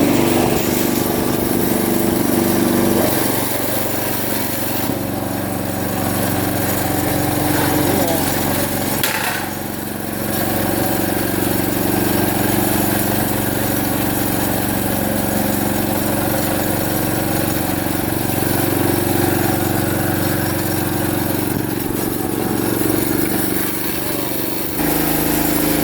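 A Honda HS724 snowblower engine runs steadily throughout with its transmission engaged, a loud continuous mechanical drone with a brief dip in level around the middle and near the end.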